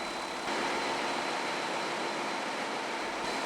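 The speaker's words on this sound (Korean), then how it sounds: "기관실의 엄청난 소음이 갑자기 줄어든다" Inside a naval ship's engine room, machinery makes a loud, steady broadband roar that surrounds the listener. It stays constant throughout with no voices.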